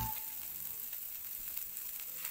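Minced boiled chicken and wilted carrots stir-fry in a pan for a baby-food rice dish, a close, continuous sizzle with faint stirring scrapes and no talking.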